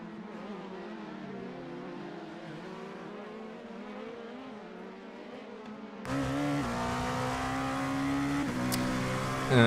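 LMP2 prototype race cars battle wheel to wheel at Sebring International Raceway, their engines droning steadily. The engine note rises sharply partway through as a car passes close, ending in a loud burst.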